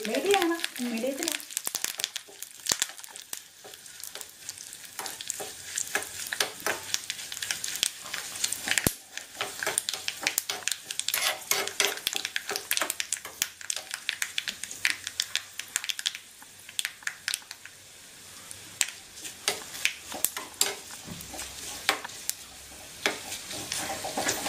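Tomato pachadi sizzles in a pan over a medium flame and is stirred, giving soft crackling sizzle and intermittent scraping clatter of a spoon, while someone talks throughout.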